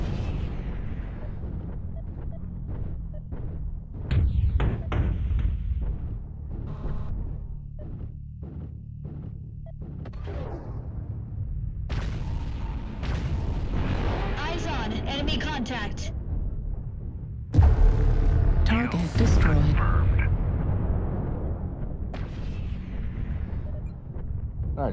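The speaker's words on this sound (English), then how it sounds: "Artillery strike online." Artillery strike explosions in MechWarrior Online, a series of loud booms and bursts with rumbling gunfire between them, heavy blasts around the middle and a big impact near the end, under radio-style voice lines.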